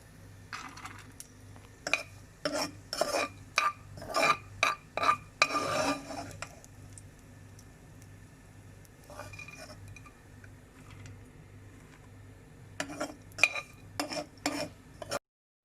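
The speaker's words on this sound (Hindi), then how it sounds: "इस तरह से घी को छान छान के निकाल लेंगे।" Fried items for sheer khurma being strained out of ghee with metal utensils, quiet rhythmic clinks and scrapes of spoon against pan in bursts with a pause in the middle, no talking.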